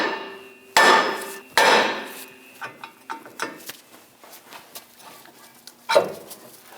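Hammer striking a steel steering knuckle on a 2003-2025 Chevrolet Express to pop out the tie rod end, two loud ringing metallic blows followed by a series of lighter, quicker taps and another sharp hit, close up.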